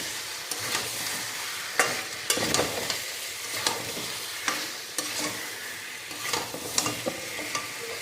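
Desi chicken is stir-fried in a pan with a constant loud sizzle and repeated scraping, clanking strokes of a spatula turning the pieces, heard up close with no voices.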